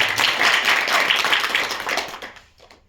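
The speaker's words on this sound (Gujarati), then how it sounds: "એકવાર તાળી બજાવો." A satsang audience claps together in a dense burst of applause that continues for a couple of seconds, then thins out and fades.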